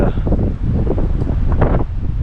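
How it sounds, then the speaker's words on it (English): Loud wind buffets the microphone in a constant rumbling roar with gusty surges, and nothing else can be heard. "Hopefully the mic is picking me up over the wind"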